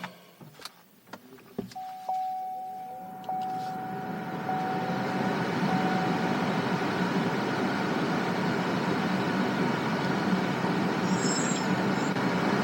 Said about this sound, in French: On entend les climatisés qui fonctionnent.